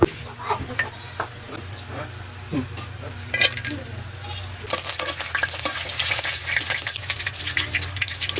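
Soft clinks and stirring in a pot, then a sudden bright hiss as whole spices (cinnamon, black and green cardamom, bay leaf) hit hot oil in a wok and keep sizzling loudly.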